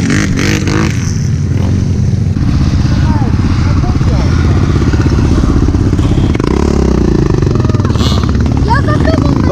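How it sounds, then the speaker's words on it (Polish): An engine, from a quad bike or enduro motorcycle, runs loud and close with a rough continuous rumble and rising revs as the rider pulls away, with voices over it. "Dobra, już jadę, Kuba."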